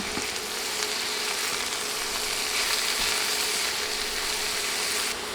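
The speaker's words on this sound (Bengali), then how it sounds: "এখন নেড়ে সব কিছু মিশিয়ে দিচ্ছি" Snake gourd with chili, turmeric and salt sizzles loudly and evenly in a frying pan while being stirred, with faint scraping clicks under the constant hiss.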